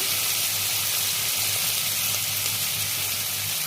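Spices fry in a pan of hot oil for a tilapia curry, giving a steady, even sizzle and crackle. The sound is close and continuous throughout, with no talking.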